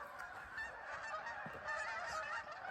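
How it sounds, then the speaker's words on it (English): Geese honk repeatedly at a pond in the morning, a flock calling back and forth at a moderate distance over a soft outdoor background. "Geese are loud this morning."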